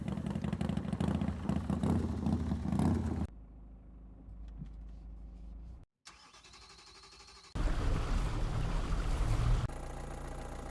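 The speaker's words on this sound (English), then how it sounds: "A lot of these engine sounds are from like far away, which doesn't really match." Engine sound effects play in several cuts, some loud and close, others quieter and muffled as if far off, with brief silence between segments and no talk.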